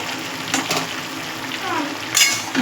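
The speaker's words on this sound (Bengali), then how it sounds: "মাথাগুলো আমি এর মধ্যে দিয়ে এবার নাড়াচাড়া দিয়ে" Fish heads being stirred in a frying pan, with a wet sizzle and a few scraping strokes of the spoon close by, rising briefly in a louder splash near the end.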